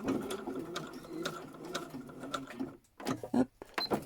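A domestic sewing machine stitching a seam around a square fabric basket, a steady rapid mechanical whir with rhythmic clicks that pauses briefly and restarts, fairly quiet and close.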